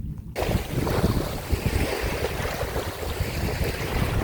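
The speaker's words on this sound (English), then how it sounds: "Very calming just listening to the waves, you know, from the wake of the boats and that." Water from boat wakes sloshes and laps continuously against a hull at Copeton Dam, with strong wind buffeting the microphone and a low rumble underneath.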